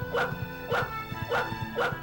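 Cartoonish dog barks from The Grinch video game on Sega Dreamcast, four evenly spaced bow-wow yips in quick rhythm, moderately loud and clear.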